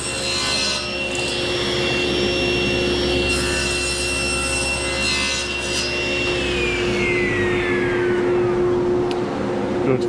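Continuous power sawing through cedar wood, close and loud, with a steady motor whine underneath that drops in pitch near the end as the cut finishes.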